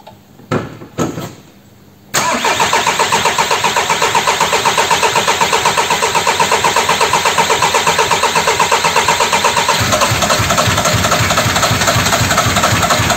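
A new engine in a Seat Ibiza car cranks and catches after a couple of short attempts, then settles into a loud, steady, rhythmic idle that runs without a break, the pulse turning rougher and more pronounced near the end.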